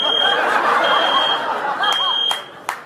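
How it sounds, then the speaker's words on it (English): A fire alarm sounds in a podcast studio, a loud, sustained high electronic tone that cuts on and off in long pulses while a crowd laughs and chuckles underneath, with a few sharp clicks near the end. "I've never been heckled by a fire alarm before."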